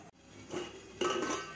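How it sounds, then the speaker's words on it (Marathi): Metal sieve set onto a pot of boiling water, then a lid placed on top for steaming bitter gourd, giving two close clattering clinks about half a second apart over a soft steam hiss. "तर या भांड्यावर आपल्याला हे चाळणी ठेवायची आहे आणि त्यावर आपल्याला झाकण ठेवून"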